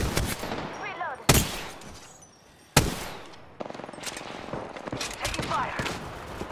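Bursts of automatic gunfire aimed at the player in Apex Legends, with two sharp, loud cracks standing out among rapid volleys that continue almost throughout, mixed with other busy game sounds.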